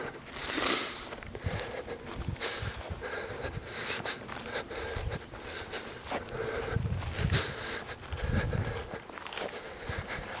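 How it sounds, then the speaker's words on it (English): Grasshoppers chirp on a grassy hillside in Austria, a thin high buzzing trill running throughout with occasional louder bursts, mixed with rustling and footstep-like thumps nearby. "You can hear the grasshoppers as well."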